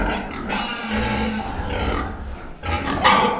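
A sow on a farm grunts and snorts steadily over a thick, noisy barn background, with a louder squealing burst near the end; the animal sounds close.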